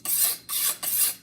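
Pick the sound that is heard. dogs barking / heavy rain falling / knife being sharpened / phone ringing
knife being sharpened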